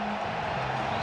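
A jam-packed college basketball arena crowd of about 10,300 at the 1997 Rainbow Classic final between Kansas and Hawaii, a steady, loud roar of cheering and clapping with no break.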